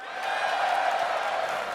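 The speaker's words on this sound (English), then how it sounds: "Well, that one got the loudest cheer." A convention panel audience at MagicCon Amsterdam cheers and whoops, a loud, steady swell of crowd noise that rises quickly and holds for under two seconds.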